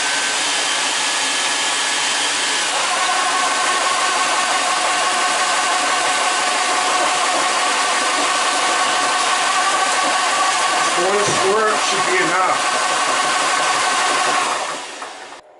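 An Air Venturi Nomad II air compressor running, a loud continuous whirring drone with a steady tone that starts up, holds, briefly wavers, and then winds down at the end.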